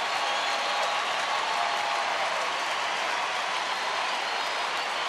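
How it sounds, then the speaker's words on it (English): A baseball stadium crowd cheers and applauds steadily for pitcher Roy Oswalt during a Colorado at Texas game, a dense, continuous roar of many voices and claps with no breaks. "the crowd, some standing now, getting behind Roy Oswalt"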